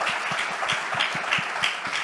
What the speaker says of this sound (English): I think the Bal Vikas play does deserve a round of applause in itself